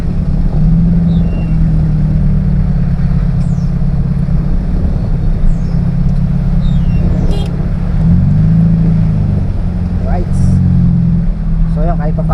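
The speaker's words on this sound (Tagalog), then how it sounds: "At ito nga, inabot kami ng traffic pauwi." Car traffic on a road in Victoria, Laguna, heard from inside a vehicle creeping home in a jam, a steady low engine and road rumble with occasional revs, while a person talks over it throughout.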